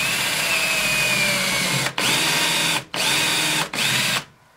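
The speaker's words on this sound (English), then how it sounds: "We're just going to pre-drill a hole in a piece of pine." A power drill whirs loudly and steadily, pre-drilling a hole in pine, stopping briefly three times before spinning down to quiet.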